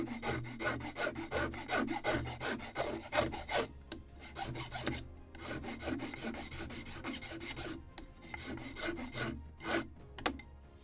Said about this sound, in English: A little more of scraping. Just scrape, and it's very rough.